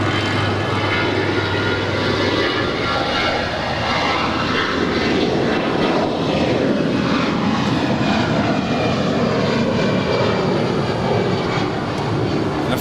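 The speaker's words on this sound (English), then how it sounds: "that engine spool up is so loud" JetBlue airliner engines spool up for takeoff at LAX, a loud, continuous roar with a rising whine that holds steady throughout, heard from nearby at the airfield.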